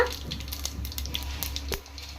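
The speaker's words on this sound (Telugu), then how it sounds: "ఆయిల్ బాగా హీట్ అయిన తర్వాత ఆవాలు, జీలకర్ర," Mustard seeds and cumin sizzle in hot oil in a pan. A close, steady frying hiss is broken by scattered sharp pops and crackles, and a louder crack comes near the end. No one speaks.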